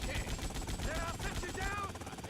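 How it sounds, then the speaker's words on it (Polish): Helicopters in the Grand Theft Auto: Vice City video game, a rough rotor chop beneath gunfire-like crackle and game noise, with someone talking over the busy mix. "Helikoptery lecą za nami."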